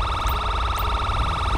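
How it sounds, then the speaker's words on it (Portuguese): A police car siren in GTA V wails continuously in a steady warbling cycle, loud and close, with no talking over it. "Só desligar aqui a sirene."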